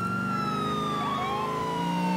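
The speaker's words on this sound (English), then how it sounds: "Actually gonna fly in with the sirens and the lights." Police car sirens in GTA IV, a loud wailing siren sweeping over continuous engine and road rumble, with a second siren tone crossing it.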